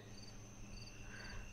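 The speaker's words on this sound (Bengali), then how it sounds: "শুনতে পেলাম ভেসে আসা ঝিঝি পোকার ডাক" Crickets chirp in the dark at night, a faint, steady stream of high trilling pulses heard alone at a distance, with no voices.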